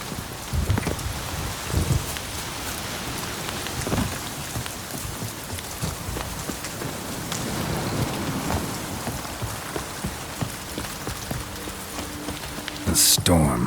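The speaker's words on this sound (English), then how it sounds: "The storm, damn it." Steady rain hammers down during a thunderstorm in The Witcher 3: Blood and Wine, a dense continuous patter with occasional low rumbles and brief louder splashes, with a voice speaking briefly over it.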